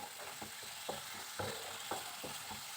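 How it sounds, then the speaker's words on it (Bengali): Coriander leaves frying in a pan over a medium flame, a soft steady sizzle broken by a few light spoon scrapes every half second or so, quiet and close with no voices. "এবার 3 থেকে 4 মিনিট সময় নিয়ে গ্যাসের ফ্লেমটাকে মিডিয়াম করে দিয়ে এই ধনেপাতাটাকে ভেজে নেব।"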